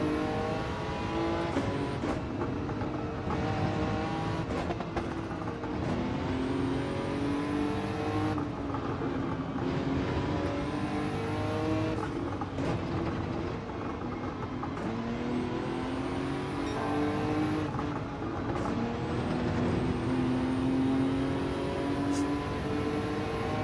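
A Nissan GT-R race car in Gran Turismo 7 at Suzuka in changing weather, its engine droning loud and steady throughout with rising and falling revs as it shifts through gears, with no talk.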